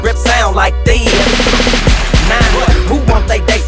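Gunfire sound effects in a rap song: sharp bangs and rapid bursts recur over a loud beat with heavy bass.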